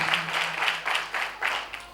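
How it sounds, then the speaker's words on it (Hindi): A church congregation applauding in a brief burst during a worship service, clapping swelling in rhythmic waves, moderately loud and close, with no one talking. "ज़ोरदार तालियां लगाएं यीशु मसीह के लिए।"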